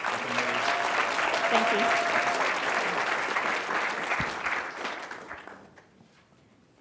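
An audience claps for two speakers after a school leadership talk, a sustained wave of applause that holds steady and then fades out, with a brief spoken thanks near the start.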